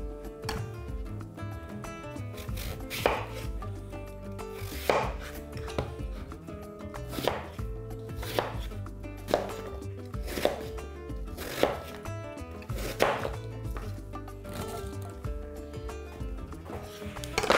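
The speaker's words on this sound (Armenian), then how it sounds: "Մինչ կտրատում ենք, մշակում ենք և կտրատում ենք խնձորները" Apples being chopped with a knife for an apple pie, a steady series of sharp knife strikes on a cutting board, close and clear, with no talking.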